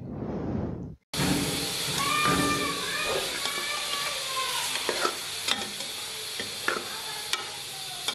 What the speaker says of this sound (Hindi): अब हम इसमें कीमा शामिल करेंगे और इसको भून लेंगे